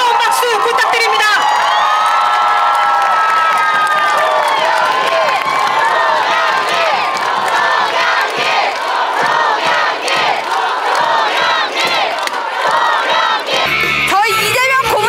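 Loud crowd at a Seoul mayoral candidacy rally cheering, whooping and applauding without a break, dense and sustained throughout, with shouts standing out above the roar.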